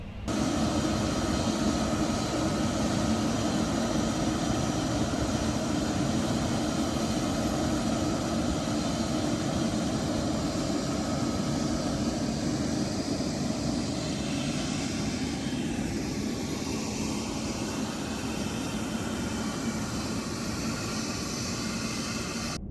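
A Lufthansa Cargo MD-11F at New York JFK gives off a loud, continuous, broadband jet engine roar that holds steady throughout.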